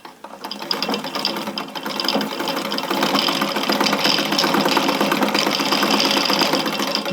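A vintage Pfaff 30 sewing machine stitches steadily, with a fast, even mechanical clatter of needle and gears that builds slightly and then keeps a constant loud rhythm the whole time.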